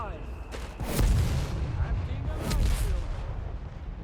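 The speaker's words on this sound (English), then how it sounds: "Italian mortars hard at work" Italian mortar fire in Company of Heroes 3, a World War II strategy game: distant booming impacts and shell bursts at irregular intervals, two heavier blasts standing out over a rumbling battlefield, with a voice talking throughout.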